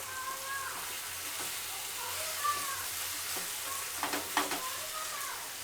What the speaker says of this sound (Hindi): बैंगन डाल के मिक्स कर देते हैं